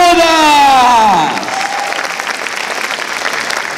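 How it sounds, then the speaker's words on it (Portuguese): Audience at a cosplay contest breaks into loud, dense clapping after a brief rising-and-falling vocal cheer, the applause holding steady and close for the rest of the moment. "Salva de palmas!"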